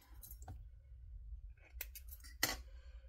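Scissors snip through fabric while sewing a bag, a few quiet cuts and crisp clicks spread over a few seconds with one sharper snip near the end, close by against a low room hum.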